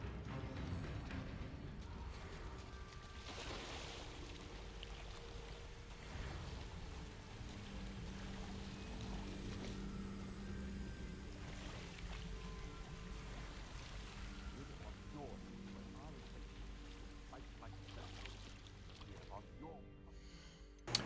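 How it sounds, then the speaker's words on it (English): A waterfall rushes steadily in the Hogwarts Legacy video game, a continuous watery roar that stays mixed under game music and ambience for the whole stretch. "The waterfall."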